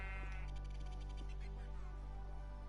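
Sheep bleating in the Minecraft video game, a run of repeated wavering bleats close up and fairly loud, with a steady game background underneath and no talking.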